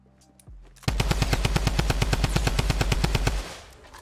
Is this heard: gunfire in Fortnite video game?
yes